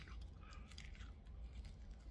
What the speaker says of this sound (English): I don't know if you can hear that crunch.